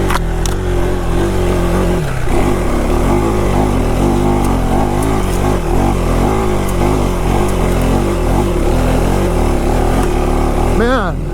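A KTM 390 Adventure motorcycle engine lugs in second gear up a steep hill, a steady low throaty drone running throughout, near and loud, with a voice talking over it.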